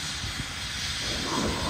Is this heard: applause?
no